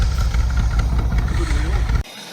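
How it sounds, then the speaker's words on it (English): An old Holden Commodore that had sat unused for 10 or 15 years idles with a steady, close, low rumble that drops away abruptly near the end. "It doesn't even sound like it's got a hole in the exhaust."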